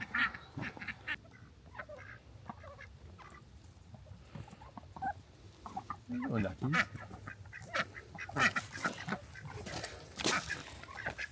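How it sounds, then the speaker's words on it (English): Ducks quacking in repeated bursts, some loud and close, with occasional honk-like calls over a steady low background rumble. "Ducks!"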